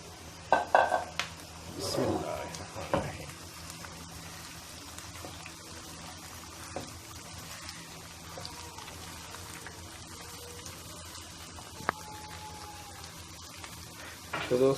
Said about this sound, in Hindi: प्याज, जो बची हुई प्याज होगी सारी ऐड कर देनी है इसमें।